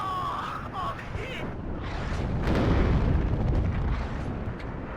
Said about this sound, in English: Cluster artillery going to be coming in pretty quickly. That's the mortar cluster artillery.